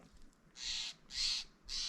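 A jay squawks three times in harsh, evenly spaced calls, loud and near, with nothing else but faint outdoor background at sunrise.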